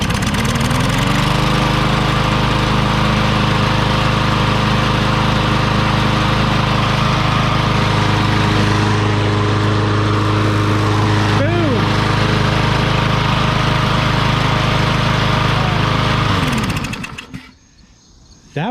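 A Troy-Bilt TB110 lawn mower engine runs loud and close with a steady buzzing drone for about sixteen seconds, pitch briefly wavering as the throttle is released, before it cuts out.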